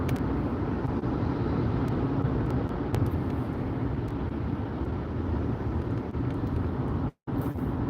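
Steady road noise of a car driving on a morning road, a constant broadband rumble and tire roar from inside the vehicle with no talk, briefly cutting out near the end.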